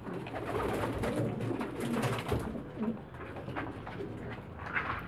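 Pigeons coo softly and repeatedly over a dense, constant background of rustling and low murmuring, with no talking.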